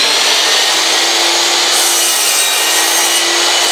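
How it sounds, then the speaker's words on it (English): A miter saw makes one continuous chop through a wooden board, giving a loud, close, steady whine and rasp of the blade cutting wood for nearly four seconds, with no talk. "I'm going to use this miter saw. And just make one nice gentle chop"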